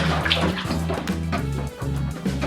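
Water splashes and sloshes continuously as a child is washed in a bathtub, a steady close wash of water movement with a soft voice faintly underneath.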